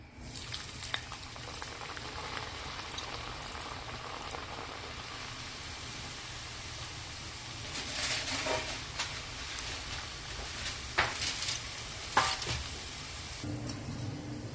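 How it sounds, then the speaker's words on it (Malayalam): Water chestnut flour puris fry in hot oil with a continuous close bubbling sizzle, like rain, that swells louder at times with sharper spatters and small knocks of handling. "ഇനി ഈ പൂരിക്ക് പരത്തി വെച്ചത് മെല്ലെ എടുത്ത് ചൂടായ എണ്ണയിലേക്കിട്ട് പൊരിച്ചെടുക്കാം."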